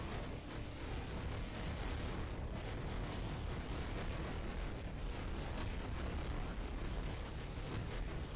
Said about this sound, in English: fire blasts